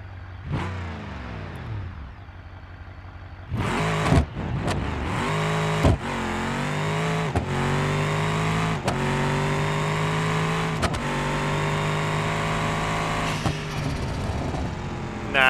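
Simulated car with a compound-boosted engine in BeamNG.Drive revs hard through repeated launches: loud, sustained mid-pitched engine roar rising and dropping between sharp gear-change breaks, continuous and close, with no talking.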